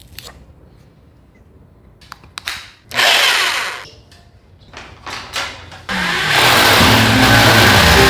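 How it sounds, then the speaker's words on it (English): A power drill whirs into an old apartment ceiling in short bursts with pauses and clicks between, then runs loudly and continuously at high speed near the end. "I have to drill the holes on the ceiling."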